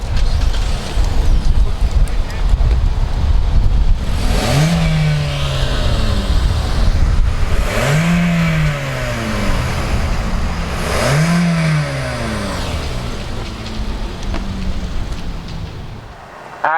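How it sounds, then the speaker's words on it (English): A 2019 Hyundai Elantra GT engine idles loudly nearby and revs up three times, each rev swelling and falling back. "Let's go ahead though and crank up this engine and see what it sounds like."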